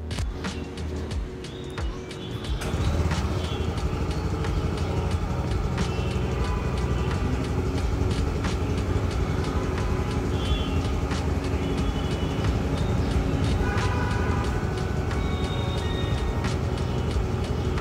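A TVS Jupiter ZX 110cc scooter engine idles steadily, a close continuous mechanical hum with faint ticking that starts abruptly after a quieter moment and runs without pause.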